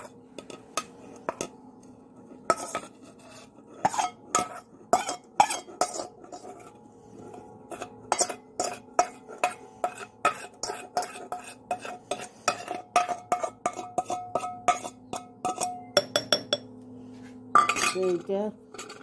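Chopped chillies dropped one after another into a glass bottle, making a long run of close, sharp clinks and taps with small pauses between them and a bright rattle near the end.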